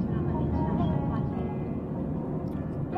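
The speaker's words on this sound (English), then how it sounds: "Come on, airplane." Airliner in flight heard from inside the cabin, a constant low engine drone and airflow rumble filling the space, steady and close, with a voice talking faintly over it.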